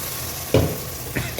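Faint frying of tomato puree in a pan with a few brief stirring scrapes; a soft sizzle runs underneath throughout, while cooking fish curry.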